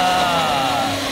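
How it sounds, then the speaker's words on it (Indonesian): An electric blender whirring at high speed as it purees marinade ingredients for beef dum biryani, a steady, loud motor whine that holds for the whole moment without pause. "Kita nak blend semua ni."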